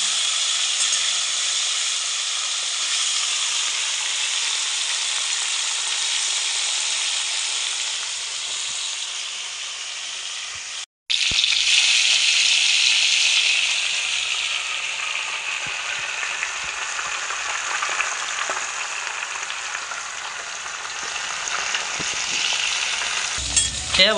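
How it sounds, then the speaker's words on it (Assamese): Pieces of fish half-fry in hot oil for a fish curry with elephant apple, making a loud, steady sizzle and hiss close by that stops for an instant partway through and then resumes just as strongly. "এয়া বন্ধুসকল মাছখিনি চাবচোন হাফ ফ্ৰাই কৰা হৈ গ'ল"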